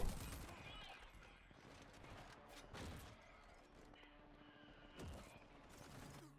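Bursts of gunshots in the video game Rage 2, several sharp shots spread through the clip amid game sounds, with a voice talking over them.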